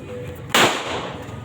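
Firecracker bursting nearby with a single sharp, loud bang that decays quickly into ambient noise, heard outdoors with faint background sound before it.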